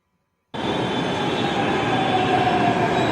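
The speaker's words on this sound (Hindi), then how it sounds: "मैं मेट्रो में जा रहा हूँ" Steady rumble of a Delhi Metro train in motion, starting abruptly after a brief silence, with a faint rising whine and continuous broadband rail noise.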